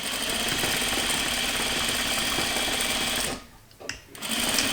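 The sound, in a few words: sewing machine stitching quilt blocks, back stitching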